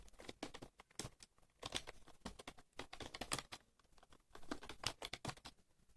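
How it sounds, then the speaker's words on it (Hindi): Computer keyboard typing in quick, irregular bursts of sharp clicks and key taps, close and fairly quiet, with no speech. "तो मैं टाइप करूंगा"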